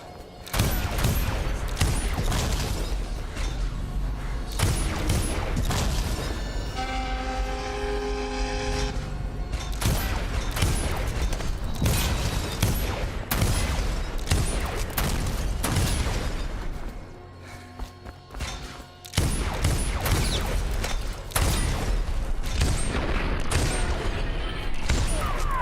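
Rapid, loud gunfire and booming shots from the stealth action game Dishonored run nearly nonstop, with a brief quieter lull before the shooting resumes.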